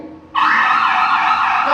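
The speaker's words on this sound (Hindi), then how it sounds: "जैसे सायरन बजेगा तो सायरन बजेगा" A siren for an earthquake drill starts abruptly after a short quiet moment, then holds a loud, steady wailing tone up close.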